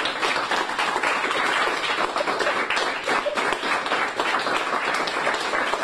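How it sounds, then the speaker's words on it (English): A classroom of students applauds a teacher honored as Teacher of the Week, dense steady clapping filling the whole stretch at close range with no speech over it. "Class, can we get another round of applause?"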